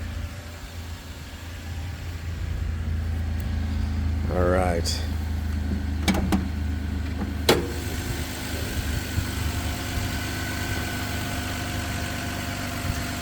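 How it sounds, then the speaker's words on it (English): A 1995 Toyota Land Cruiser FZJ80 idles steadily after a cold start, a constant low engine drone running throughout with a slightly raised warm-up idle, while a person speaks briefly and a few short clicks sound over it. "to show cold start, it's always going to rev a little higher while it warms up"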